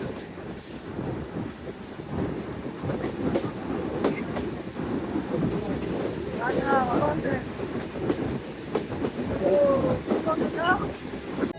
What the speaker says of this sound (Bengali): এইমাত্র গাছা থ্রু পাস করে গেল ঢাকাগামী রূপসী বাংলা এক্সপ্রেস